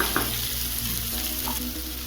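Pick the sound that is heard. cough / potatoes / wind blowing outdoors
potatoes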